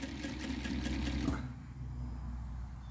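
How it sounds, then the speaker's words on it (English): A sewing machine stitching a snakeskin strapback cap, its fast whirring run lasting about a second and a half before it stops, leaving a quiet room hum. "I'm putting a double stitch here"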